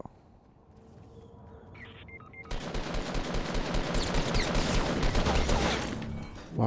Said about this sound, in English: Why would you shoot me?